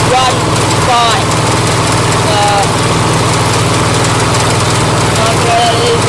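A rebuilt lawn mower engine runs steadily at close range, droning loud and constant throughout, while a voice talks faintly beneath the engine noise.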